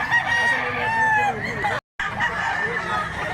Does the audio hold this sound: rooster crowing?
yes